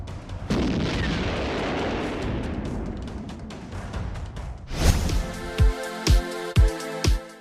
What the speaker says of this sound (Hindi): बम धमाकों से ऐसे कीव को कब्रिस्तान बना रही है पुतिन की सेना।